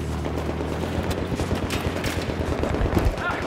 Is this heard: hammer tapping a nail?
no